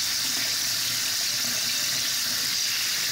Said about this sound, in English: Turn on the tap.